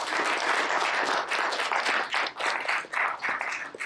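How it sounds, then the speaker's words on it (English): A crowd applauds steadily, a dense wash of clapping hands that swells and dips slightly without any talking. "can we get a big round of applause for our panelists?"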